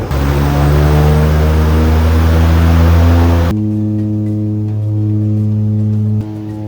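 A small propeller airplane's engine drones steadily and loudly with strong low harmonics, then drops to a lower, quieter hum partway through, as if throttling back.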